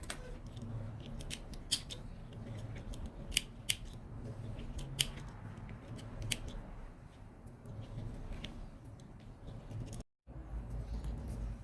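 Scissors snip leftover threads from a handmade Kipling-style pencil case, a series of sharp, close, irregular clicks over a quiet background, with a brief silent gap near the end.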